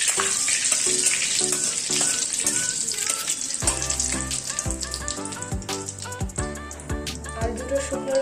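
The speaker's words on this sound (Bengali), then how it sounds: "দুটো তেজপাতা আমি ছিঁড়ে নিয়েছি, তেলের মধ্যে দিয়ে দিলাম।" Torn bay leaves dropped into hot oil fry with a bright, continuous sizzle and crackle, joined midway by deeper tonal sounds and sharp clicks.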